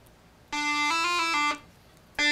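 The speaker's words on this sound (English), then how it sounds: "So this is a talk box." A synthesizer played through a talk box and shaped by the mouth gives bright, buzzy sustained tones. The vowel-like timbre shifts mid-note, then the sound stops and a new note begins. No voices are heard.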